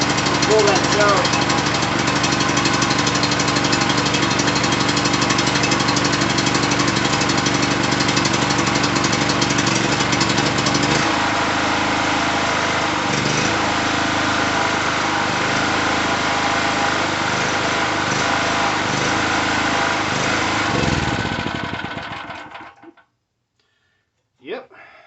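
A Predator small gasoline engine on a generator runs steadily after starting, a loud continuous buzzing drone close by that holds for about twenty seconds and then shuts off.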